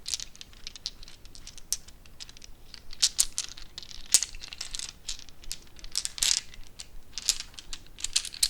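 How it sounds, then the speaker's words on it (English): Board game dice clink and rattle together in quick, light, irregular bursts, close and quiet, with no talking. "I love the sound of dice like that. Kind of clinking together."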